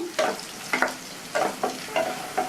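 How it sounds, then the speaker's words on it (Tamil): Half-boiled potatoes fry in a ghee and oil mix, with steady sizzling and several distinct bursts of spatula stirring and scraping against the pan, close and fairly loud. "இந்த நெய் எண்ணெய் கலவையில் நம்ம பாதி வேக வச்ச உருளைக்கிழங்கு நல்லா வதங்கி சாஃப்ட் ஆயிடுச்சு"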